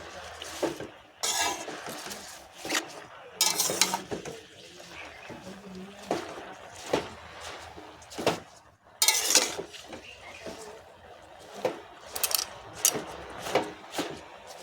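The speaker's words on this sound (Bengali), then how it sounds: "লবণটা দিয়ে আমি ভালো করে নাড়াচাড়া করে দেবো" Taro greens are stirred with salt in a metal pan, with a spoon scraping and clinking against the pan in irregular bursts and a voice talking faintly in between.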